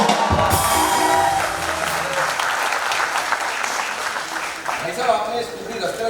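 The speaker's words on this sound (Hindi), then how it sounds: "जोरदार तालियां हो जाए।" Loud, sustained studio audience applause fills a comedy talk show set, dense clapping with some cheering that eases slightly after the first second and a half but continues throughout.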